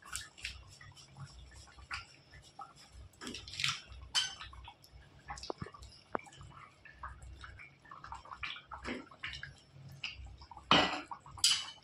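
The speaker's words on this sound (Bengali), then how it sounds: "এবার ঢাকনিটা তুলে দেখে নেব।" A metal lid comes off a pot of bata fish curry with potatoes on a gas stove, with scattered metallic clinks, scrapes and rattles coming close and irregularly over a quiet background.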